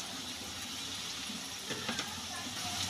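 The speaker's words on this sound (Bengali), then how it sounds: "লবণ হলুদ দিয়ে কাঁচা লঙ্কা পেঁয়াজটাকে ভালো করে আরো ভেজে নিচ্ছি।" Chopped green chili, onion and garlic fry in oil with salt and turmeric while cooking mustard greens. A soft, steady sizzle runs throughout, with a few faint clinks near the end.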